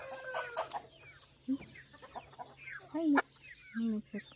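Farm chickens cluck in short bursts, with a rooster-like call and a few sharp fowl cries, close by; a voice briefly speaks a greeting over them.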